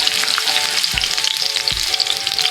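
Ginger sizzling and frying in a hot pan for Filipino pineapple chicken (pininyahang manok), a loud, steady crackling hiss with faint stirring bumps, no voices.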